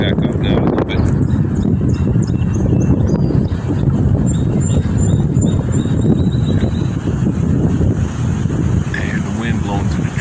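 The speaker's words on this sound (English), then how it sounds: "And the wind blowing through the trees here." Strong high wind roars steadily through trees around a tent during a high wind advisory, a loud continuous gusting rush that fills the whole scene without letup.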